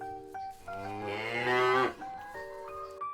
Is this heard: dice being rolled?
no